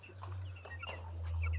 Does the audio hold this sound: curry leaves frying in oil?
no